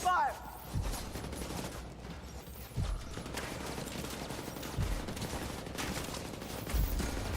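Gunfire in The Division during a PvE farming session: a few heavy, booming single shots, including a shotgun slug, land at irregular intervals against a constant busy rumble of battle.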